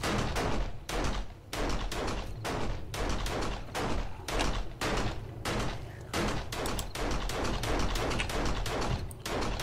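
Rapid, continuous gunfire from the survival video game 7 Days to Die: dense bursts of shots repeat in quick succession across the whole stretch, loud and close, with brief gaps between volleys and no speech over them.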